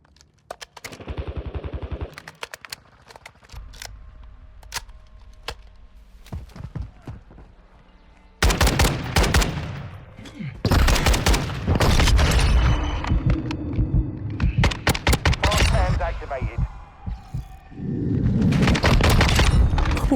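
Gunfire from a weapon in Call of Duty: Modern Warfare 2. Sparse shots at first, then loud, rapid bursts of automatic fire with short pauses between them, alongside game sounds.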